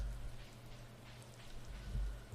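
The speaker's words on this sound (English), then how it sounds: "I guess since it's raining again" Steady rain in the Stardew Valley farming game, a soft continuous hiss of falling drops with a low rumbling undertone, fairly quiet and unbroken, no voices.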